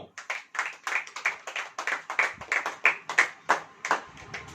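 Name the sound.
congregation clapping hands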